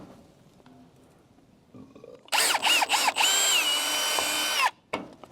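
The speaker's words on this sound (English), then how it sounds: "Pre-drill your hole." A power drill pre-drills a hole for a hook and eye while building a mobile chicken coop, giving a loud whirring burst of about two seconds with brief stutters, set against a quiet workshop and followed by a short tool clack.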